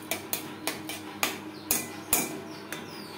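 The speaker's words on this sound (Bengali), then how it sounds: "লো ফ্লেমে নাড়াচাড়া করতে থাকবো" Metal spoon scraping and tapping against a pan while ghee is stirred over a low flame, a series of sharp clinks spaced irregularly, fairly close and alone.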